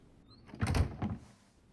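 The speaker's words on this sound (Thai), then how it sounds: "ปิดประตูเตรียมดักดีกว่านะ" A door shuts in the Arena Breakout video game, a short sliding swish followed by a firm thunk and a brief second knock, close and alone.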